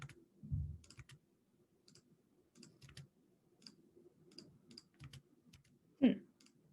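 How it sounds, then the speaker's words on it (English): Fingers type on a computer keyboard, heard as scattered light clicks and taps in irregular bursts with brief pauses and one louder thump near the end; close, quiet and alone. "Let's see if I can do it on my keyboard."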